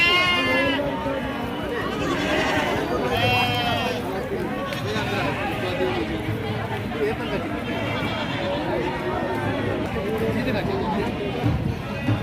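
Sheep and goats bleating over and over at a busy livestock market in Gangadhara, Telangana, loud and close, with crowd chatter and voices filling the background throughout.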